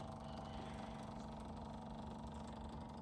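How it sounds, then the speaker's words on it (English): Fuel pump of an ISEKI TH4335 tractor runs with the ignition on, a steady, faint mechanical drone that continues evenly without change. "Can still hear the fuel pump running."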